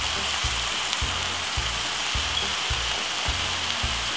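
Meat for lasagna browning in a pan, seasoned with everyday seasoning and coarse pepper: an even, continuous close sizzle with a faint regular low thumping pulse beneath, no voices.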